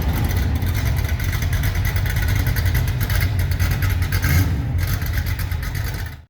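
Henry J drag car with a small block 350 V8 revving hard and loud at close range, a continuous rough engine roar with throttle surges through the whole stretch and no talking.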